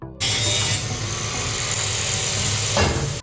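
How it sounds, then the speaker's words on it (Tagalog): An angle grinder cuts metal on board a ship, a loud continuous abrasive whine and hiss that starts suddenly and holds steady, with a brief surge near the end and no speech. "nagsuot na ako ng apron para sa talsik ng grinder"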